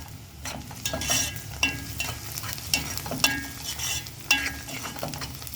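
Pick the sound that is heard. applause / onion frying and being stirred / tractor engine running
onion frying and being stirred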